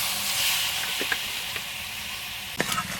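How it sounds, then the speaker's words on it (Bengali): Fried crab pieces stir-fry in masala in a pan, giving a steady close hiss and sizzle with a few soft scrapes and a sharper clatter near the end. "এবার ভেজে রাখা কাঁকড়াগুলো দিয়ে দেবো মশলাগুলোর সাথে কাঁকড়াটা খুব ভালোভাবে যেমন করে মাংস কষে তেমন করে কষিয়ে নিতে হবে"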